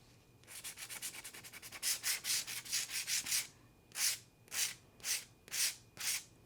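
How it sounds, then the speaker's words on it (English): A UV resin glitter pen is sanded by hand, with a rapid run of short rubbing strokes that slow into five longer, distinct scrapes, close and quiet, with no voices. "You want to sand that down."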